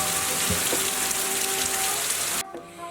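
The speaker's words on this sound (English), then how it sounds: "It's raining like a mofo." Heavy rain pours down in a dense, loud hiss that fills the background, steady until it cuts off abruptly near the end.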